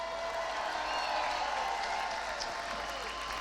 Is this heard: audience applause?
yes